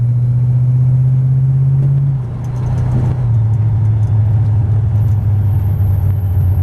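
A 1931 Ford 5W Coupe hot rod pulls away in first gear, its engine a steady, loud low rumble close by, dipping briefly as it shifts load before droning on with a slight rise in pitch.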